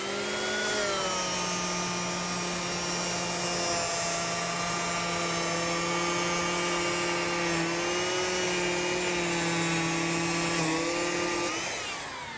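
An Exakt precision sander runs steadily on a piece of laminate, a loud sustained whining tone with a slight pitch dip midway, cutting off at the end with no talk.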